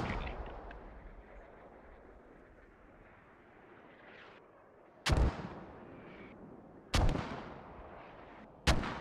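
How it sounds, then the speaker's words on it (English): Mortar rounds land in the Squad video game around a farm compound, three sharp, loud booming impacts a couple of seconds apart cutting through a steady low rumble of distant battle. "Looks like all the mortars are hitting the back side of this farm compound."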